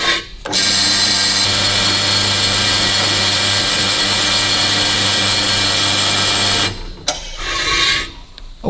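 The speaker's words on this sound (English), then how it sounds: "you just want to make sure you don't drill through the bottom of the casing" A power drill boring into a casing for a Helicoil thread repair, a loud steady whine held for about six seconds, then stopping with a few clicks and handling noises.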